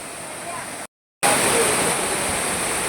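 Palchuram waterfall, a steady, loud rushing roar of falling water heard close by, briefly cut to silence for a moment before resuming just as full.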